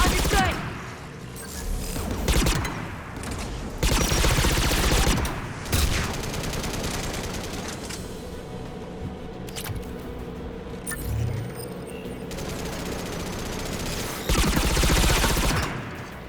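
Anti-aircraft gun fire in the Mass Effect video game: repeated loud bursts of rapid gunfire in several separate volleys, with mechanical rumble and game ambience between them.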